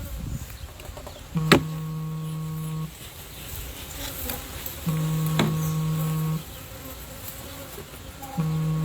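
Agitated honeybees in an opened beehive on a day poor for hive inspection, a dense continuous buzzing drone close by, with a few louder passes of single bees and a recurring low electronic beep.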